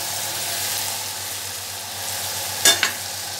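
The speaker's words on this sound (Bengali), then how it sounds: "আলুর সঙ্গে ভালো করে মশলাটা কষিয়ে নিই আর কি" Fried potatoes sautéed with spices in oil for a rohu fish curry, a steady close sizzle ending with two sharp clanks of a utensil against the pan.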